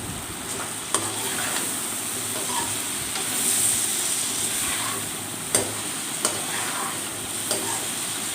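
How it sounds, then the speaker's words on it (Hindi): Okra stirred into frying masala, a loud continuous sizzle with a spoon scraping and tapping the pan at intervals, close and without talk. "अब भिंडियों को अच्छी तरह से इसके अंदर मिक्स करेंगे।"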